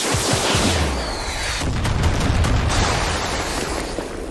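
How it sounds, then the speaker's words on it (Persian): A heavy booming blast with rumbling low end in the video game Far Cry 6, followed by a sustained dense roar of debris and crackle that stays loud throughout. "انفجارش بدی نیست"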